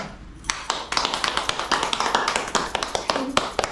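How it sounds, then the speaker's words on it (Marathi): A small group claps at a first wedding anniversary celebration, with quick, uneven hand claps starting after a short quiet moment and continuing briskly and fairly close to the end. "टाळ्या तर वाजवा"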